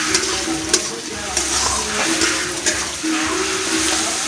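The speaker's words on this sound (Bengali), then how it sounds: "এখন আমি পুঁটি মাছটা দিয়ে দেবো দিয়ে সুন্দর করে এখন মাছের সঙ্গে মশলা দিয়ে কষিয়ে নেব একটু" Small puti fish sautéed with spices in a pan, giving a steady, close sizzle broken by regular scraping stirs of the spoon; no voices.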